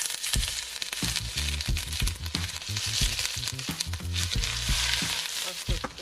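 Ginger and garlic sizzle and crackle in hot oil alongside shallots and onions in a pan, a steady close frying hiss with scattered pops and occasional stirring scrapes throughout.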